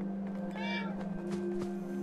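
A cat in the Fallout 4 video game lets out one short, clear meow over a steady low game hum.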